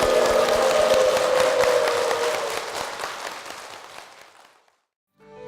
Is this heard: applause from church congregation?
yes